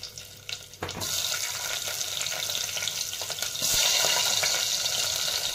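Chopped onion with cumin seeds sizzles steadily in a hot pan. The frying swells louder partway through as stirring and fresh additions hit the oil.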